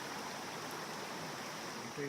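A small creek on the Abrams Falls trail flows steadily at close range after overnight rain, giving a continuous bright rushing and babbling with no talk over it.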